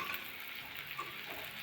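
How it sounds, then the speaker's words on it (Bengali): Onions sizzle and fry in a pan for a Bengali kosha mutton curry, giving a soft, steady crackling hiss with a few faint pops and no talking. "পেঁয়াজটা দেখো লাল লাল করে ভাজা হয়ে গেছে"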